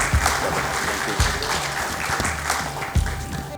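An audience claps for a refugee guest at a Refugee Week gathering, a full round of applause with a few louder claps poking through near the middle and end.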